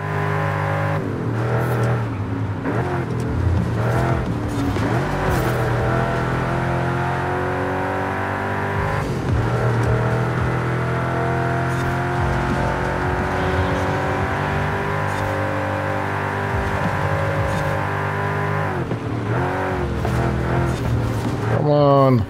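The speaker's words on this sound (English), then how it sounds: "Oof, this car is bad in turns." A car races in Forza Horizon 5, its engine droning and revving in shifting tones with brief gear changes and tire noise, steady and loud throughout with no voices.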